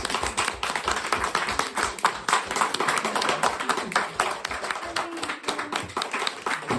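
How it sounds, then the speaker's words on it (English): An audience claps after a storytelling performance at the Dylan Thomas Birthplace, a close, lively round of uneven hand claps that continues throughout. "Applause."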